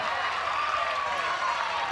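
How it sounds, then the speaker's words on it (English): A college softball crowd at a Texas A&M vs Arizona State NCAA game gives a steady, mocking cheer and scattered applause after six straight balls from the pitcher, filling the whole moment. "A little sarcastic cheer."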